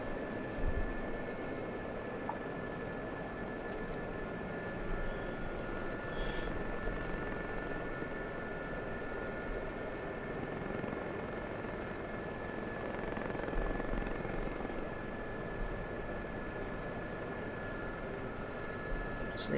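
A Gazelle helicopter in the DCS flight simulator settles toward a courtyard landing, its rotor and engine giving a steady, unbroken drone that stays at a constant, fairly quiet level throughout, with no talking.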